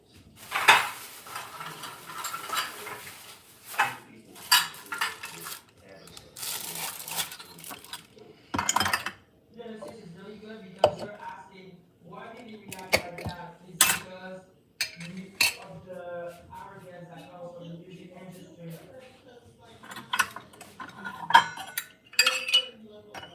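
Kabocha squash flesh being mixed into a custard filling, with repeated scraping, clinking and tapping of utensils against a bowl in irregular bursts, close and fairly loud, with quiet gaps between.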